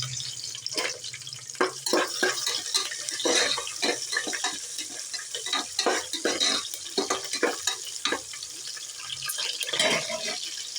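Green chillies and curry leaves fry in a pan for a Tamil tomato rice, with steady crackling sizzle and repeated scraping stirs at close range, no voices present.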